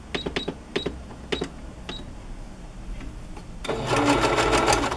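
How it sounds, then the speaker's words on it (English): Sewing machine running a regular straight stitch around the edge of paper strips: a few short bursts of stitching early on, then a sustained louder run of whirring needle strokes near the end. "I'm going to do that with just a regular straight stitch"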